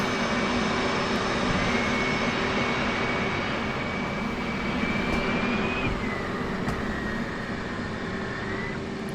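A steady, loud F/A-18 jet engine roar in a flight simulator game, with a high whine that holds, then dips slightly, running continuously without any talking.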